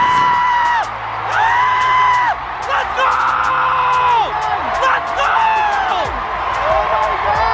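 Loud, dense crowd at the Miss Universe 2018 winner announcement, screaming, whooping and cheering in sustained overlapping shrieks, close by and continuous throughout.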